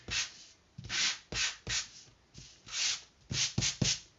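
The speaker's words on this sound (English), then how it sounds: "I'm going to just distress it slightly by sanding it" Rhythmic scratchy strokes of sandpaper rubbing wood, close and fairly soft, in a steady back-and-forth pattern with brief pauses between passes.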